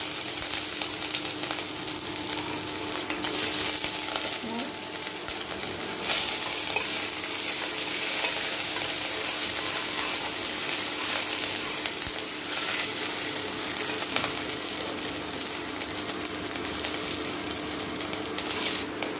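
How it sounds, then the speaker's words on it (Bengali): Ginger and green chillies sizzle in hot mustard oil in a kadai with bay leaf and five-spice, making a steady, close, crackling hiss with light stirring throughout. "এরপরে আদা আর কাঁচা লঙ্কাটা দিয়ে দেবো।"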